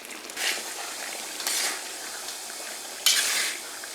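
Beef with chili sauce being stir-fried in a wok sizzles steadily up close, with a few louder scraping surges from the spatula and no talking.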